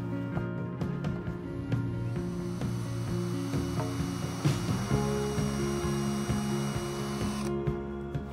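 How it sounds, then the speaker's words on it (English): A power drill boring holes through a wooden sailboat bulkhead, a steady close whining drone with a shifting pitch as the bit bites in, running continuously with no talk. "we'll put this here somewhere and drill all these holes through"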